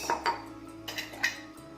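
Kitchen vessels knock together: glasses, bowls, plates and spoons clink and clatter in a few quick handling sounds, with bright ringing ceramic and metal taps close by.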